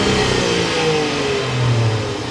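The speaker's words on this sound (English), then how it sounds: "We need to go inside and start up this P360 so you can hear that exhaust." Range Rover Sport P360 engine running with its exhaust note, a steady mid-pitched drone with a gentle rise in revs, continuous and fairly close throughout.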